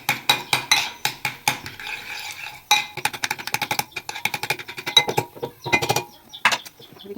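Garlic being stirred into tomato chutney in a pan with ghee, a busy run of close metal spoon scrapes and clinks against the pan, steady and rhythmic, with no talking.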